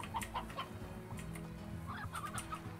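Hens cluck in the video game Slime Rancher, several soft, short clucks in quick bursts over a steady background hum, with no talking.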